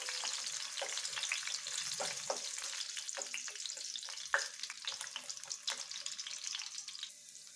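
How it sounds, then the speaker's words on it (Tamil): Ginger and garlic sizzle steadily in a hot pan for a bottle gourd kofta curry, a constant close frying hiss with occasional stirring scrapes and no talking. "இதே இஞ்சி பூண்டு இது வறுத்து அரைக்கிறதுக்கு தான். அதனால் இதை லைட்டாக வணக்கி விட்டுடலாம்."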